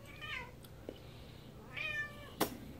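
A pet cat meows a few times, short separate calls spread over a few seconds, fairly close and alone with no talk over them.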